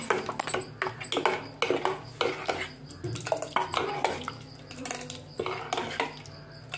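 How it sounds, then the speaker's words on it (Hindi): A spoon stirring ground flaxseed powder into bottle gourd curry in a metal pan, a rapid series of close scraping and clinking strokes repeating steadily. "अब इसको फिर मिक्स करूँगी।"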